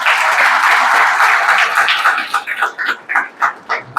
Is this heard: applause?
yes